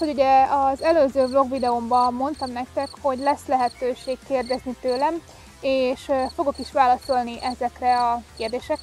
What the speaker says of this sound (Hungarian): remélem fogtok hallani a tücsöktől, ami ciripel mellettem